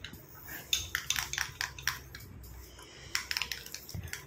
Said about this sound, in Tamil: நல்ல ஸ்பூன் வச்சு நல்லா மிக்ஸ் பண்ணணும்